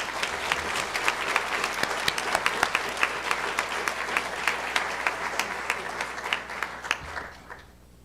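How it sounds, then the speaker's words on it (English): An audience at a college honors awards night claps for award recipients, a dense steady applause with sharp individual claps that fades out near the end. "Let's have a round of applause for our award recipients."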